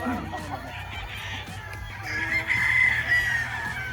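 Roosters crow at a gamefarm in Nasugbu, Batangas, with a long, loud crow standing out near the middle and other birds clucking and calling around it across the whole stretch.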